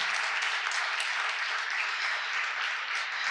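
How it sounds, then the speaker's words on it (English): Panelists at an Elizabeth Peratrovich panel discussion receive a steady, dense round of audience applause that holds at an even level from start to finish, with no voices breaking through. "everybody give them a big giant round of applause"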